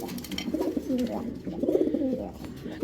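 Racing pigeons cooing close by in repeated soft throaty rolls, one call following another with little pause.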